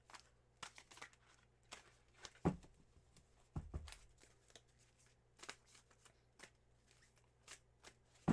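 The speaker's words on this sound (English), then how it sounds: "here are your official shuffles there" Tarot cards are shuffled by hand, giving repeated soft riffling bursts and sharp taps spread over several seconds against a quiet background with no talk.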